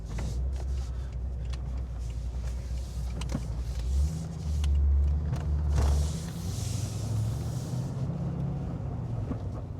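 A car fitted with a Chopper Reid camshaft and CNC heads coasts in 4th gear, its engine settling back toward 1,000 RPM as a steady low rumble with a deeper swell midway through, no talk.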